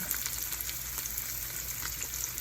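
Minced garlic fries with tofu in a hot pan, giving a steady, dense sizzle that stays loud and even throughout with no voices.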